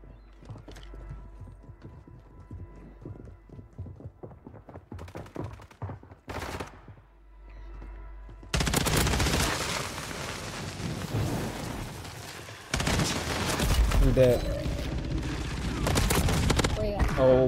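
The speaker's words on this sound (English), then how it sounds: "Somebody shooting me on top of prison." Warzone 3 gameplay on top of a prison, where gunfire aimed at the player starts halfway through as dense, loud, crackling bursts. Voices talk during the quieter first half.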